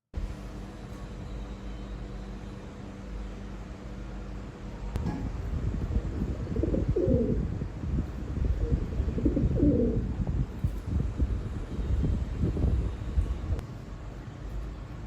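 Pigeon or dove coos softly in two short bursts inside a house, over a steady low indoor hum.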